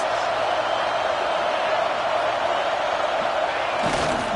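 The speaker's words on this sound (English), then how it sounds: "Goal to go, and the crowd's giving them some juice." A football stadium crowd roars steadily throughout a college game near the goal line, a dense, loud wash of cheering with a sharper swell near the end.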